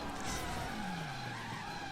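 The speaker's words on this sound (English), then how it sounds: "But a lot of times you'll get this kind of spin out effect" Tires skid during a spin-out of a Camaro SS in the driving game Driver San Francisco, a steady loud screech with a falling engine whine sliding down in pitch over about two seconds, heard alone.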